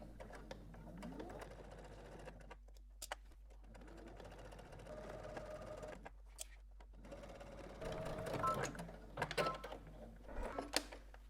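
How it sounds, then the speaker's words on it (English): Domestic sewing machine stitching in the ditch on a dress bodice, quiet intermittent whirring runs broken by pauses and small clicks, with a low steady hum underneath. "we're going to go ahead and stitch in the ditch."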